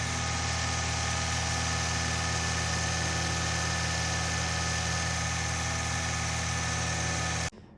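Suzuki Samurai engine with a leaking head gasket runs steadily at idle, a constant droning hum with a faint regular pulse, cutting off abruptly at the end.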